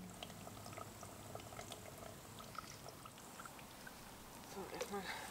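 Water trickles and splashes quietly as it is filtered and poured outdoors during a solo overnight hike, a faint liquid gurgle running under soft background noise and occasional voice sounds.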